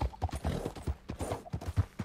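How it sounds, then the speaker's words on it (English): Horse hooves clip-clopping in the video game Red Dead Redemption 2, a close, steady rhythm of distinct hoofbeats roughly every quarter second, loud and without talk. "That horse looks like a fine traveling companion."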